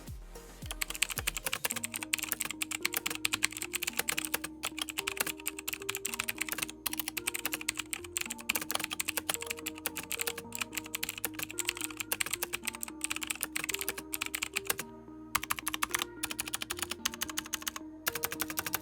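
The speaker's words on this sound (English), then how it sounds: "In terms of sound, they're blue switches. They won't be quiet." Steady, fast typing on a mechanical keyboard fitted with blue switches, a continuous stream of sharp clicky keystrokes with brief pauses, set over faint background music with no speech.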